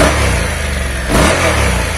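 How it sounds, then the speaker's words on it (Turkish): Honda NC750X DCT motorcycle engine running steadily nearby, then briefly revved with a swell in loudness around the middle before settling back to a steady idle-like drone. "Ama biraz gazlayalım."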